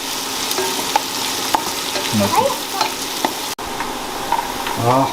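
Onions sautéing in a pan with rock salt while making chicken biryani at home: a constant close sizzle with a spoon scraping and stirring at intervals, alone with no talk.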